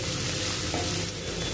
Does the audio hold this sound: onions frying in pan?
yes